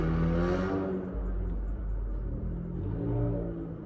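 Steady, heavy New York City traffic rumble with engines droning and a vehicle revving past up close, a continuous low roar throughout with no talking.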